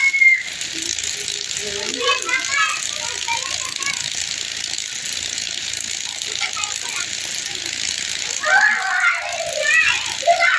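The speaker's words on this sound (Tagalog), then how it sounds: "Hala, maingay yung mga bata sa labas." Children playing noisily outdoors in the Philippines, a steady bustle of distant kids' voices and shouts with some whistle-like chirps, louder near the end.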